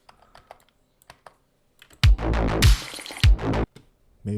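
Keystrokes tapped on a computer keyboard while a glitch sound is searched for in music software, a few sparse faint clicks followed by a louder run of quick typing with short pauses between bursts.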